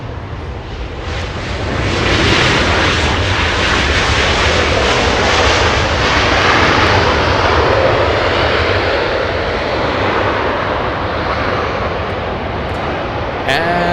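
An American Airlines airliner arrives at Los Angeles International Airport, a loud sustained roar of jet engines that swells in the first two seconds and holds steady and close to the end.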